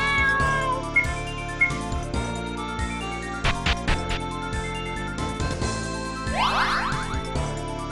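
A cat meows at a save point in a fantasy RPG, heard as a few short, clear meows over ongoing game music with chiming jingles and twinkling effects.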